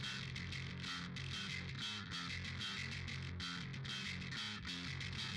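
A heavily distorted metal bass guitar, run through a Darkglass distortion pedal and an SVT-3 bass amp, plays a fast chugging riff of gritty, buzzing repeated notes with no talking.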